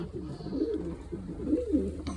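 Adult pigeons and young pigeon chicks coo in a steady, low, rolling murmur close by, continuing throughout without any talking.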